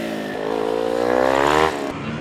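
A tuned Kawasaki Ninja motorcycle accelerates hard at a gymkhana event, its engine note climbing steadily in pitch for nearly two seconds, loud and close, before easing off.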